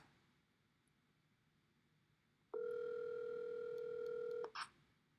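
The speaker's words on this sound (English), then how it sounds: "We're just calling him live." An outgoing telephone call rings out once as a steady electronic ring tone lasting about two seconds after a quiet line hiss, followed by a short click-like burst.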